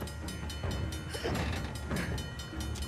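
Train drawing nearer in Uncharted: The Lost Legacy, a steady mechanical clatter and rumble of wheels and cars holding at an even level throughout, with rhythmic metallic knocks and no voices.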